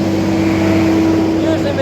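A tractor engine idles steadily and loudly close by, a constant droning hum with no change in pitch on a farm while manure-pumping equipment is hooked up.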